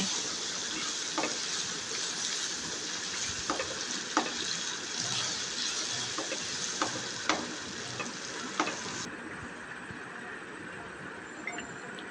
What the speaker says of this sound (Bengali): দিয়ে মশলাগুলোকেও তেলের সাথে একটু ভেজে নেব, যেন কাঁচা গন্ধটা না থাকে